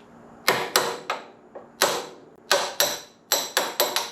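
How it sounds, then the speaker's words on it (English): Hammer blows knock bolts out of a control arm on a 1973 Mercedes-Benz R107 450SL during front subframe removal prep, sharp metallic taps close by in an uneven series of about ten, with no talk. "Now the next hair-raising step is tapping those bolts out of the control arm."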